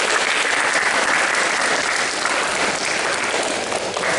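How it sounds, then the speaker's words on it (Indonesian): A group at a karate kata coaching clinic bursts into applause, loud and close, with many hands clapping in a dense, continuous patter that holds steady throughout. "Tepuk tangan dulu."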